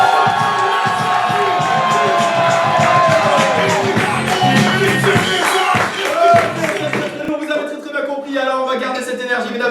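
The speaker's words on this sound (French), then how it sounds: "C'est le moment de taper dans les mains, de taper dans les pieds, de crier" A French improv theatre audience cheers, shouts and whoops loudly and continuously, a dense crowd roar with children's shrieks and scattered clapping blended in, swelling throughout.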